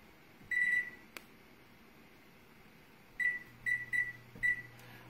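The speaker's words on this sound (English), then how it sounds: "Now we're going to set our timer." A digital kitchen timer beeps as it is set in a kitchen, first one longer tone, then a cluster of four short, sharp beeps, quiet and close.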